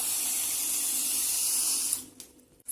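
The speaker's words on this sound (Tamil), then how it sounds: "தண்ணியும் சேர்த்துக்கலாம்." Water runs steadily into a pan of sugar being readied for gulab jamun syrup, a close, hissing stream that cuts off near the end with a few small clinks.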